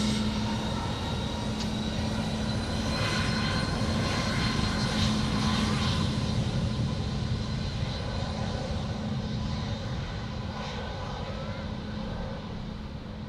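Qantas 7 airliner taking off from Sydney Airport bound for Dallas, a continuous heavy engine roar with a steady low hum, sustained and fairly loud throughout with no talk.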